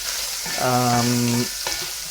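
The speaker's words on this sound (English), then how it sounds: "now that our meat is browning" Meat sizzles as it browns in a pan for Norwegian lapskaus, a steady close hiss with a brief scraping stir in the middle.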